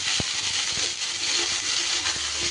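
Cut okra slides into hot oil in a pan, setting off a steady, bright sizzle that hisses evenly throughout, with a few soft low knocks from the pan and no talking.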